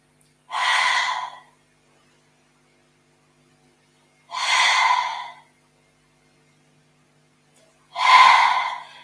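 Three separate breathy rushes of air spaced evenly a few seconds apart, each a short close sigh-like breath from segmented yoga breathing, with quiet pauses between them.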